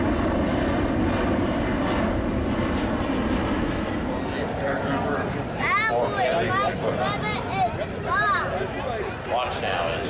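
At an air show, a B-1 Lancer bomber's jet engines drone in a loud, continuous roar, rising in strength, while an announcer talks over it and a crowd murmurs.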